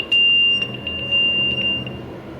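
An alarm clock sounds a thin, high electronic beep as a steady tone with a few pulses, loud and near over a low room hum, with nobody talking.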